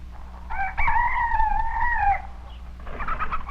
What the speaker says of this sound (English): The chickens are coming down from their roosts.